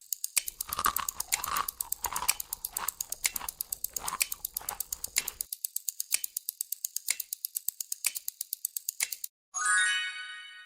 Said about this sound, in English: That was the sound of cereal crackling.